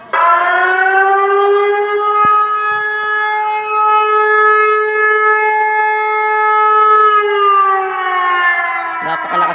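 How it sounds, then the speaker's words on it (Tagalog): A civil defense siren sounds a typhoon warning, a loud, steady, harmonic wail that holds one pitch for several seconds before dipping slightly and then rising again near the end. "Napakalakas guys ng tunog ng sirena."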